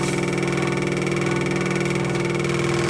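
A scroll saw running while cutting MDF, a loud, steady mechanical buzz with fast rhythmic vibration and strong tonal hum, continuous and close.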